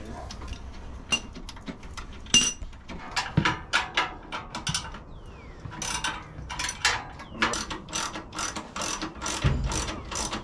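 A hand ratchet tightens a screw while RWD RS1 shocks are fitted, giving close, crisp bursts of rapid clicking strokes with short pauses between them.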